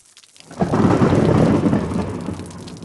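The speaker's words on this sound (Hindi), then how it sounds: "बाहर बहुत बारिश हो रही है" Heavy rain pours steadily as a deep, loud roll of thunder swells in after a brief quiet moment and rumbles on, gradually easing.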